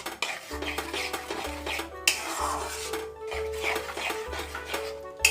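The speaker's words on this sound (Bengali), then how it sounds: "ভালো করে এই টক দইটাকে এর সাথে মিক্স করে দিতে হবে" Spoon scraping and stirring yogurt through a thick raw jackfruit masala in a metal pan, repeated close scrapes and clinks with a steady rhythm, no talking.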